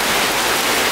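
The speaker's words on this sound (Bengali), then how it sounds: "তো প্রচণ্ড বৃষ্টি চলে আসছে" Heavy rain falls on a rainy day in Bangladesh as a steady, close wash of hiss with no break and no talking.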